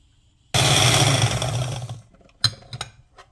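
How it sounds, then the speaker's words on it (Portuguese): A stand mixer beats raisin butter pound cake batter, a loud whirring burst of about one and a half seconds that winds down, followed by a few faint clatters. "Vou dar uma paradinha com a batedeira."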